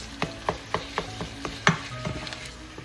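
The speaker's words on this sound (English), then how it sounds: "Continue to mix until it's cooked up." Ground meat stirred with fish sauce in a hot pan, a spatula scraping and tapping in a steady rhythm, about eight soft knocks over a low sizzle, close and fairly quiet.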